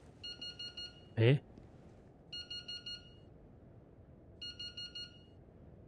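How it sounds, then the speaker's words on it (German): Electronic alarm beeping in the VR game Into the Radius, sounding in repeated bursts of four quick high beeps, with a brief spoken interjection between the first two bursts. "Piept denn jetzt hier so?"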